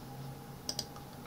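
Two quick, faint computer keyboard keystrokes click in close succession over a quiet room hum while a formula is entered in Word 2019.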